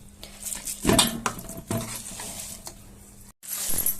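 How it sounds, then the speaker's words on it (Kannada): Cooked rice mixture being stirred by hand in a metal basin, with scraping and clinking of a utensil against the bowl in several close bursts and a short pause, no talking. "ಬೇಸನ್ಗೆ ಹಾಕೊಂಡು ಮಿಕ್ಸ್ ಮಾಡ್ಕೊಳ್ಳೋಣ ಚೆನ್ನಾಗಿ"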